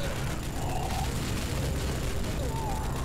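Dense, continuous rattle of Rogue Trooper Redux gunfire and muffled booms, a steady loud barrage with no pauses throughout.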